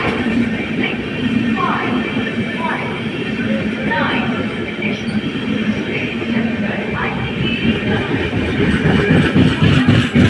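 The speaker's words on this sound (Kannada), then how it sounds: "ನಮ್ಮ ಟ್ರೈನ್ ಬಂತು ಗೋಲ್ ಗುಂಬಜ್ ಎಕ್ಸ್ಪ್ರೆಸ್ಸು." The Gol Gumbaz Express pulls into a station platform, a steady rumble of rolling rail cars with faint squeals and clanks, loud and close, while people talk in the background.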